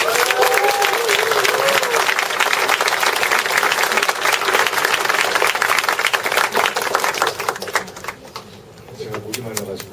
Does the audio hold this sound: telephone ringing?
no